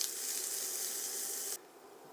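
Onions cooking in a skillet over lowered heat give a steady, hissing sizzle, close and even, that cuts off abruptly near the end, leaving quieter background noise.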